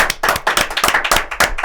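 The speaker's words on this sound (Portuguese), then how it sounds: "Palmas." Clapping from a small audience at a church podcast recording, sharp, close, distinct hand claps in an uneven rapid rhythm over a second and a half.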